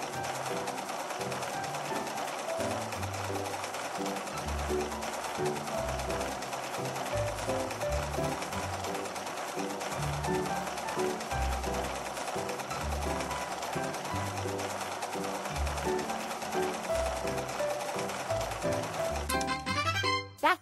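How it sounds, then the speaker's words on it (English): A sewing machine from a children's dress-up sewing game whirs steadily as garment pieces are stitched together, in a continuous mechanical buzz over looping game music, with no one speaking. "Let's sew the pieces together."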